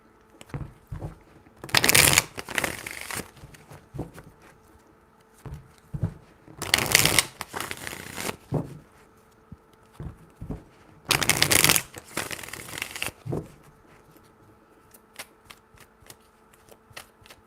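Tarot cards are shuffled in three separate riffling bursts, each a loud, close, fluttering rush about a second long, separated by quieter pauses with faint handling noises and no talk.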